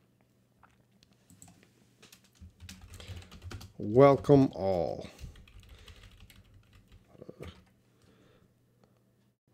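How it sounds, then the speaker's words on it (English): Light tapping on a computer keyboard in a quiet room, a brief cluster of keystrokes near a voice that speaks a short greeting, with sparse faint clicks before and after. "Just typing in the chat here."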